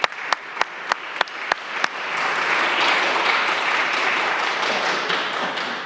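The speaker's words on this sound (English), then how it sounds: "Give her a round of applause if we could" A council meeting audience in Cleveland breaks into applause: a few sharp, separate claps ring out first, then swell into sustained, moderately loud clapping from many people across the room.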